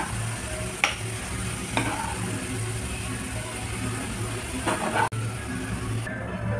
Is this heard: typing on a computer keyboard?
no